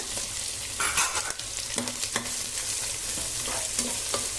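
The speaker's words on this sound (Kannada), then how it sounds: "ಸ್ವಲ್ಪ ಸಿಡಿಯುತ್ತೆ." Split green chillies and onions hiss and splutter in hot oil for mango chitranna, a steady close sizzle punctuated by sharp pops and scraping stirs of a spoon.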